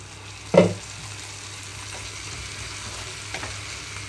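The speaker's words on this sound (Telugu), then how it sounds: "ఇక్కడ మూత పెట్టేసి ముక్కంతా చక్కగా ఫ్రై అయ్యే వరకు ఉంచుకోవాలి" Ivy gourd pieces fry gently in a covered pan over a low flame, a soft steady sizzle broken by one sharp clack near the start and a faint tap later.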